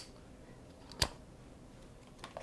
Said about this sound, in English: let's cut this tag off